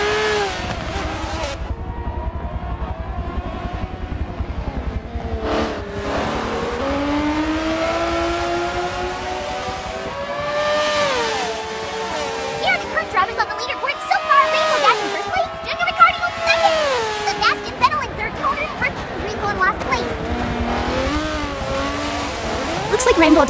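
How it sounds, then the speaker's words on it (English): F1 cars race at the Nurburgring in the Forza video game, high-pitched engines rising and falling through gear shifts with a brief tire squeal, under steady commentary. "Rainbow Dash is still keeping a gap against her opponents as they now head into lap two"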